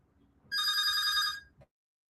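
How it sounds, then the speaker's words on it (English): A telephone rings once with a single bright electronic burst lasting about a second, followed by a faint click, in an otherwise quiet room. "I think phone call came."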